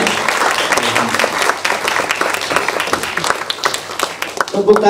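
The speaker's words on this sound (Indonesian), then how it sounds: "Tepuk tangan." Audience applause at a Sundanese performing arts show by a dance and arts studio, a dense crowd clapping loud and steady for the full five seconds, with a voice and a few tonal notes coming in near the end.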